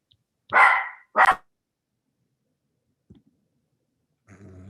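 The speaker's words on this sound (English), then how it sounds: "Now the dog's going crazy." Nearby, a dog gives two sharp, loud barks in quick succession, then the room goes quiet except for a faint click and some low rustling at the end.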